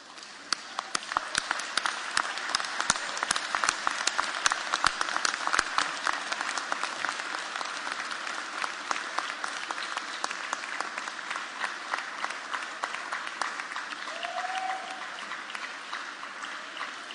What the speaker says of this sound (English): Please stand, turn, and applaud them as a show of your appreciation and thanks for their support.